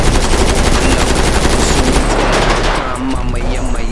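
Sustained automatic gunfire in a street gang-war scene on a video game roleplay server, loud and rapid in close rattling bursts that thin out slightly toward the end.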